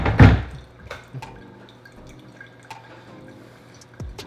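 Freshly brewed coffee dripping from a V60 paper filter into the vessel below: a splashy burst at the start, then sparse, scattered drips against a quiet kitchen background.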